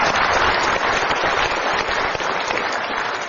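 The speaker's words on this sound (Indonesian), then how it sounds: "Kita berikan dulu tepuk tangan untuk dia." An audience at a motivational seminar gives a loud, dense round of applause, many hands clapping continuously and evenly from start to finish without pause.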